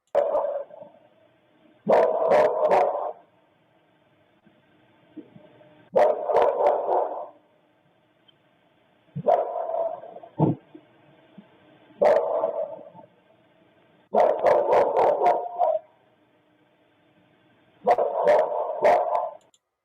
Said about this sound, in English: it sounded like 2 dogs to me